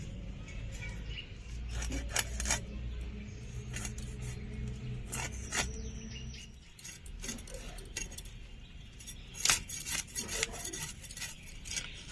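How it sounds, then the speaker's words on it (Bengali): Whole white bhola fish being cut up by hand, heard as repeated scraping and rasping strokes with sharp clicks, close and steady over a low background rumble. "আজকে এই মাছটা কেটে নেবো"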